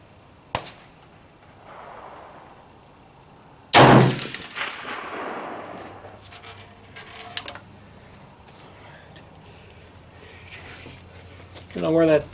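A single sharp rifle shot cracks loudly and close, with a brief echoing tail, after a small earlier click; quiet outdoor ambience and faint rustling follow.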